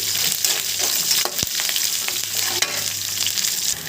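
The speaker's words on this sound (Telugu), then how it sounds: "పచ్చిమిర్చిని ఇందులో వేసుకోవాలి అలాగే కట్ చేసి పెట్టుకున్న అల్లం ముక్కలను కూడా ఇందులో వేసుకోవాలి వీటిని బాగా వేగనివ్వండి" Green chillies and ginger pieces sizzle and fry in hot oil in a pan while making upma, a loud, dense crackle with occasional sharp pops and stirring scrapes, no talking.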